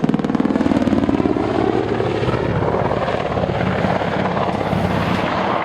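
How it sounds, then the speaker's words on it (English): An Apache helicopter in an air display accelerates hard nose down, its loud rotor beat thumping rapidly at first and then easing into a broad roar as it moves away. "the Apache is going to rapidly accelerate with a 90-degree nose down with a left-hand twist."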